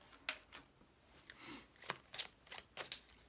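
Tarot cards being shuffled and drawn up close, with quiet sharp snaps and riffling flicks in an irregular series over near silence.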